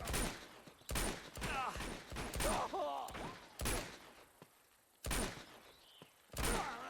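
Gunfire in the action video game Uncharted 2: sharp bursts of shots in irregular clusters, loud and close, with in-game voices in between.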